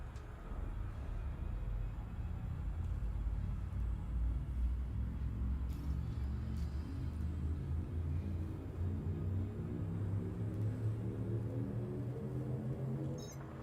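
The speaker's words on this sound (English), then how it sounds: "FSD supercharged. Engage FSD. Making the jump to light speed." An Elite Dangerous frame shift drive builds up for a jump to light speed, a loud deep rumble that swells and rises in pitch with a growing pulsing throb.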